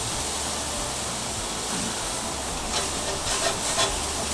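Flipped smash burger patties sizzle on a hot griddle, a loud, even, close hiss with a few brief crackling bursts toward the end, no talking.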